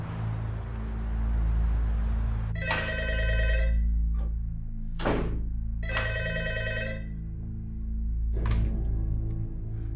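A landline telephone bell rings in an office or barracks setting, with four separate rings spaced across the clip over a steady low hum.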